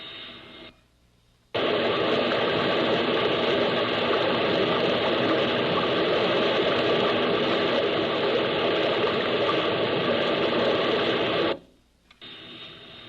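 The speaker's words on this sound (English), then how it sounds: "a ground microphone down by the penstock so that you can hear the sound of the water" Rushing water roars through a dam penstock in a dense, steady broadband wash for about ten seconds, starting and stopping abruptly, with a quieter hum before and after.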